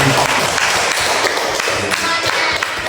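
Applause fills the space for two teachers at a school teacher-training event in Paser, a steady loud wash of many hands clapping, with no speech over it.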